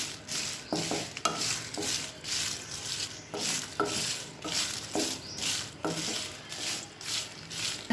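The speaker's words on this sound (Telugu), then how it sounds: "అది వేడైన తర్వాత ఎండుమిర్చి యాడ్ చేయాలి. స్లో ఫ్లేమ్లో మంచిగా ఫ్రై అయ్యే వరకు ఫ్రై చేయాలి." Dry red chillies fry in oil in a pan over a slow flame, a steady close sizzle with repeated scraping strokes of a spatula stirring them, no talking.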